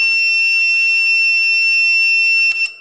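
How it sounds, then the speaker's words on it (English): A small electronic buzzer on a switch-operated circuit sounds with a loud, steady high-pitched tone that holds for a few seconds, then cuts off abruptly. "when I press this switch, the buzzer and the LED would get turned on"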